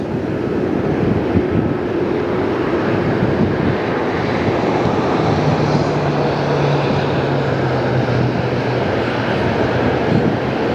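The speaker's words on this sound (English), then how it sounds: "What history will be on this jet, I wonder?" A jet airliner at LAX roars loudly and continuously close by, a broad steady engine rumble with wind buffeting the microphone throughout.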